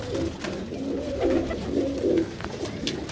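Pigeons in a loft coo in soft, low, repeated throaty rolls that overlap one another, close by, with faint background noise and no voices.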